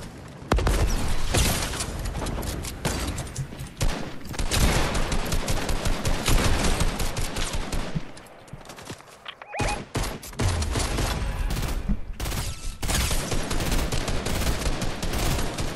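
Rapid bursts of Fortnite gunfire during a squads match crackle loud and near, dense volleys filling most of the span with a brief lull around the middle before shooting resumes.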